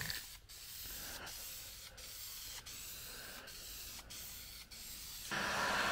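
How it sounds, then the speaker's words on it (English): Spray paint hissing steadily and heavily onto a car valve cover for a wrinkle finish, a continuous close hiss broken by several brief pauses between passes, with no talking. "spray it heavy, see what happens."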